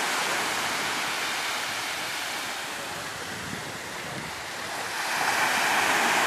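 Ocean waves surge in at Aguilas, Spain, a broad continuous wash of surf that eases slightly midway and then swells louder, with wind buffeting the microphone.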